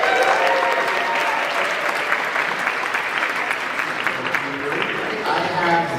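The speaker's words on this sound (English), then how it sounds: "Give a round of applause for council member Wilson." A crowd applauding at a Pride event at New York City Hall, dense sustained clapping with scattered cheers, fairly loud and continuous throughout.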